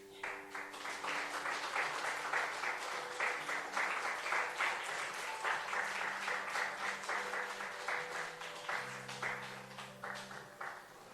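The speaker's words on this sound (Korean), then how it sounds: "우리 축복의 박수를 여러분 힘차게 한번 쳐주시면 감사하겠습니다" A church congregation claps for a blessing during a Sunday service, rhythmic and fairly close applause that pulses in waves for several seconds while soft background music tones linger beneath.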